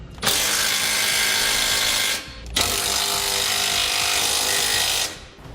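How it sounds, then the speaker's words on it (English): Ratchet tightening the bolts on a Curt trailer hitch receiver being mounted to the frame of a 2017 Ford F-150, heard as two long, loud, steady bursts of mechanical whirring with a brief pause between them, no talking. "we can now tighten all of our hardware."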